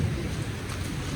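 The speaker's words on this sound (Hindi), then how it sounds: "बारिश है, सुन रहे हो आप आवाज़, क्या ज़बरदस्त साउंड आ रही है" Heavy rain during a thunder and lightning storm gives a steady, dense roar of falling water with a low rumbling undertone, continuous and close throughout the brief moment.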